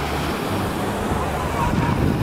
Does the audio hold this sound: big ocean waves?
yes